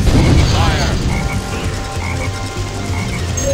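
Black frogs in the Lost Jungle stage of Sonic Heroes, a loud croak at the start followed by steady game noise and rumbling, with a few repeated chirping tones.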